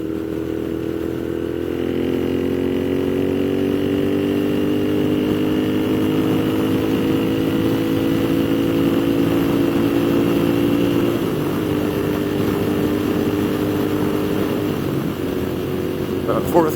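A Moto Guzzi V7 Mk2 750cc motorcycle accelerates through the gears on a road ride, its engine note climbing steadily, dipping at each shift and rising again, loud and close over constant wind noise.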